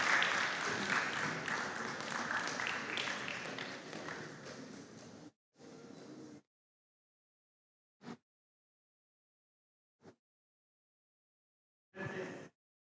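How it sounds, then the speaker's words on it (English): Audience applause welcomes new contestants at an inter-school competition: a dense, steady clapping roar for about five seconds that fades out, followed by a few short, isolated bursts of clapping. "let's give a round of applause to our new contestants"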